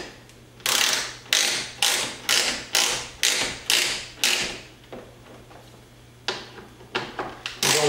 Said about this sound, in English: We have a T30 Torx that we're going to use, and we're just going to tighten these up.